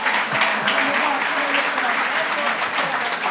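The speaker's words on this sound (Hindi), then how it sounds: "सारे एक बार खड़े होकर अपने लिए तालियां बजाते हैं" A standing audience at a police selection celebration applauds loudly and continuously, a dense wash of many hands clapping close and full, with voices faintly mixed in.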